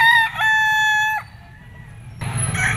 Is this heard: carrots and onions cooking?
no